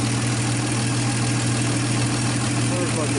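An old car engine, a 1951 Studebaker or 1948 Nash, idles steadily up close with a low, even hum that runs unbroken from start to finish.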